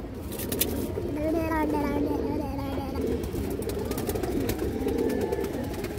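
Pigeons in a Bangladeshi fancy-pigeon market coo softly in low, rolling calls, with someone talking loudly over them and general bustle around.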